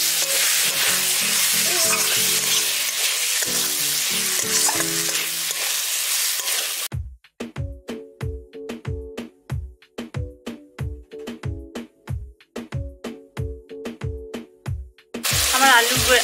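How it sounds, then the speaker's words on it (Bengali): Fried potatoes sizzle in a spice masala for an egg curry, a dense close frying hiss with stirring that stops for a stretch of plucked music before the sizzle returns. "এবার আমি ভেজে রাখা আলুগুলোর মধ্যে দিয়ে খানিকক্ষণ কষে নেবো"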